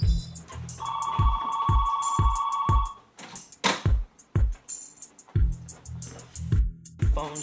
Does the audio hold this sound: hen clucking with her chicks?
no